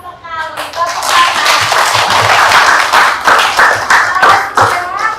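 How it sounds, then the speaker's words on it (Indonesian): A classroom group claps together at a school art lesson, giving close, uneven rounds of hand claps with voices mixed in. "Tepuk tangan"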